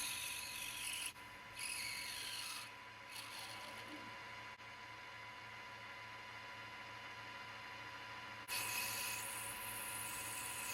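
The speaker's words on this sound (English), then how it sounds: "using my side and face cutter, I face off the end, making it nice and smooth." A metal lathe faces off a small part held in a 3-jaw chuck with a side and face cutter, giving a steady scraping, rasping cut over constant machine hum. The cut pauses briefly near the start and again near the end.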